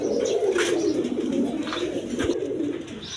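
Breeding pigeons coo in a continuous low, throaty murmur, close to the listener, with a few birds overlapping throughout. A faint chirp or two sits in the background, and no speech is heard.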